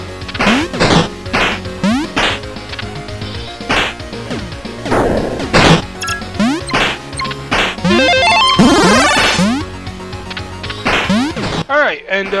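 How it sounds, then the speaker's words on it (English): Falling chandelier and dropping blocks in a haunted-house puzzle platformer, One Off - Super Puzzle Platformer Deluxe: repeated sharp crashes and thwacks land in a busy rhythm over a continuous game soundtrack, loud and close throughout. "here's the chandelier. It basically drops, blocks on you."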